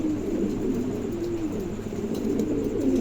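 A high-quality pair of pigeons offered for sale makes soft, continuous low cooing close by, with a steady murmuring hum running through the whole stretch and no talk.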